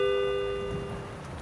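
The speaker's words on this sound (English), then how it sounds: "Whoa, that rain, am I right?" Steady rain patters in the Service with a Shotgun video game, a soft, even hiss over a faint sustained tonal hum, fairly quiet throughout the short stretch.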